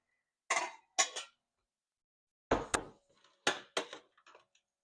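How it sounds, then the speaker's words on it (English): A small pan is taken out and handled in a home kitchen, giving a few sharp metallic clinks and clatters in short separate bursts with quiet pauses between them, close and without talk. "So let's get a small pan."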